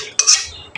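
Palm fruit pulp is added to a pot of boiling water; two sharp metallic clinks of a spoon against the pot ring out close and loud within a split second, with no voices.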